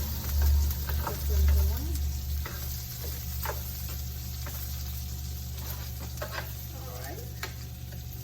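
Onions frying in a pan for seitan grilled beef, a soft continuous sizzle with occasional stirring scrapes and clicks beneath a low hum, while a person briefly talks near the start.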